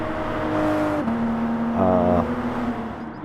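A Toyota Supra GT race car engine in Gran Turismo Sport drones steadily, with a brief rising rev partway through; no voices.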